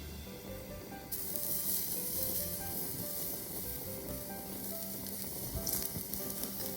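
Beef tongue sizzling on a grill over a gas stove, a steady, loud crackling hiss that swells suddenly after the first second and keeps up without pause, with no voices over it.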